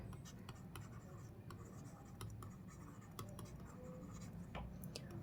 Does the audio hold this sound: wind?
no